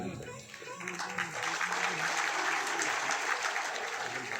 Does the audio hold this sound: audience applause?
yes